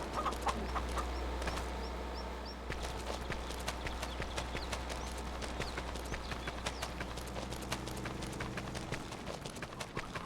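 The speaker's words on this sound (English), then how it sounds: "Chickens." Chickens clucking in the Farming Simulator 25 video game, soft repeated clucks and bird chirps over a low steady hum with rhythmic clip-clop-like tapping, faint and continuous.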